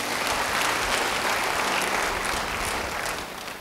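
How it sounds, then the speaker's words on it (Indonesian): Congregation applause during a church service, a dense steady clapping that stays loud and continuous from start to finish with no voices over it. "Beri tepuk tangan bagi dia."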